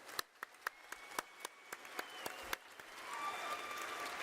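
Scattered audience clapping at a hacker conference's closing ceremony: a few distinct, sharp claps at first, then thickening into a soft, distant wash of applause.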